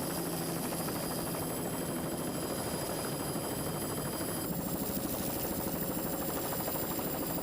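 A helicopter flies over a powerboat race, a steady droning rotor and engine hum that stays even and moderately distant throughout, with no voices.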